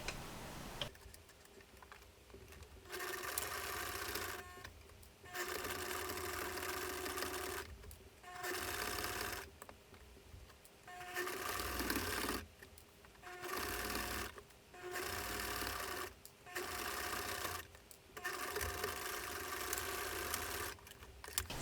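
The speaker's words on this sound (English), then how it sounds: "And then we're going to sew top stitch the top seam" A sewing machine top-stitches the top seam of a fabric face mask with a filter pocket, running in repeated close bursts of a few seconds each, separated by short pauses.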